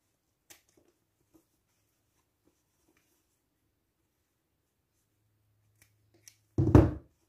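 Scissors cut through the surplus zipper of a small, feminine coin purse. After near silence with a few faint taps, a single short, crisp snip sounds close by near the end.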